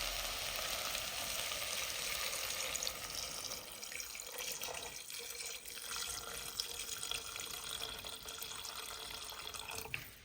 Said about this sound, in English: So we're just gonna put some water in here.